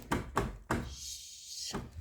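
A little boy knocks on a window at home: three quick dull thumps in close succession, followed by a soft sustained rustle and a final knock.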